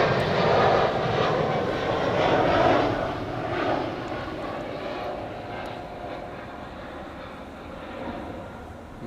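A Boeing 747 jet departs Schiphol airport, its engine roar broad and strong at first and then fading into a distant rumble as it climbs away, with a voice briefly audible over the noise.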